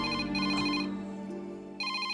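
Telephone ringing in a police station, a warbling electronic ringtone playing in repeated bursts with a short gap, clear and close, no voices.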